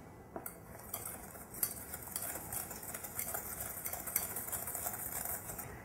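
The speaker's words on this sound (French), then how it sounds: "je vais mettre mon beurre mou que je vais mélanger à l'aide d'un fouet avec le sucre en poudre" A whisk beats soft butter with caster sugar in a bowl, giving a faint, quick run of light metallic clinks and taps against the sides, with no one talking.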